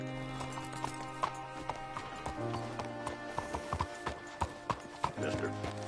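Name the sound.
horse hooves in video game Red Dead Redemption 2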